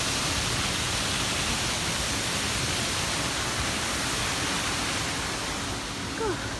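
Waterfall in the Orridi di Uriezzo gorge, a loud, steady, broadband rush of falling water filling the space without pause.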